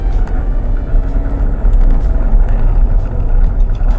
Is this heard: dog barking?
no